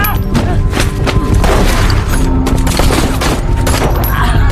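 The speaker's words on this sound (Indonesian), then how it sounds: "Chico dan Figuenza tertembak." Gunfire in a mafia revenge film scene: a dense, loud burst of shots and heavy thuds over a constant roar, packed together with no pauses.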